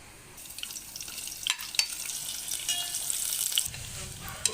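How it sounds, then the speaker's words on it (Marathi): Onions and curry leaves sizzle and crackle in hot oil while cooking a sprouted field bean curry, with a sharp hiss rising as they hit the pan and small pops. "सर्वप्रथम आपण यामध्ये कांदा आणि कढीपत्ता टाकून तो परतवून घेऊया"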